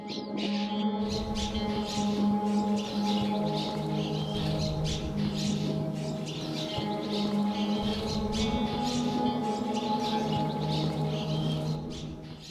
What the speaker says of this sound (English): Most of these birds are cliff swallows.